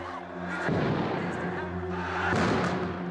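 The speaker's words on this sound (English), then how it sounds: "We counted at least 6 separate explosions." Two heavy bomb blasts boom out about two seconds apart, each a sharp broadband burst with a rumbling tail, over a low background hum.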